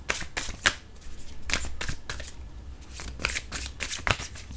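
Tarot cards shuffled by hand for a reading, with crisp riffling bursts repeating in quick irregular waves, close and moderately loud, no talking.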